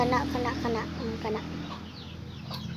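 A chicken clucks softly in short bursts close by, then falls quiet over low background noise.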